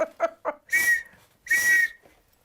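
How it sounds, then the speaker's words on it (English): An industrial whistle blasts twice, two loud shrill sustained tones after a few short chirpy bursts, close and piercing with nothing else around. "I break out my industrial whistle for her"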